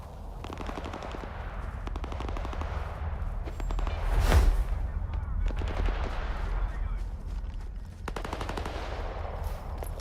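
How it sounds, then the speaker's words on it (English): Bursts of automatic gunfire in the S.T.A.L.K.E.R. 2 video game, rapid rattling volleys repeating at moderate distance with one heavier boom in the middle, over a low rumbling backdrop. "you can't see who's shooting right now"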